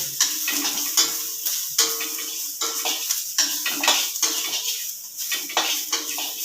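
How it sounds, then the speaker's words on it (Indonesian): Food is stir-fried in a pan until fragrant, with a constant hiss of frying broken by rhythmic, repeated clanks and scrapes of a utensil against the pan, close and fairly loud. "Ditumis-tumis sampai harum, sampai warnanya agak kecoklatan"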